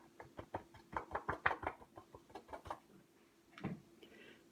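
Stamped paper dusted with white embossing powder is tapped against a surface to shake off the excess, giving a burst of quick, light knocks followed by a pause and a few final taps, close and fairly soft.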